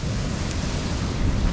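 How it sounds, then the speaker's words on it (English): Sea waves break near Positano in a continuous, loud wash of surf, with wind buffeting the microphone and no voices present. "even the sound from waves breaking"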